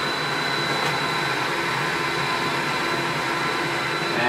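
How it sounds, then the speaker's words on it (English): A printer running while printing sublimation transfer paper, a steady mechanical whir and hum that holds evenly throughout, close and without talk. "So I already send it to the printer, and this is, it's gonna come out right here."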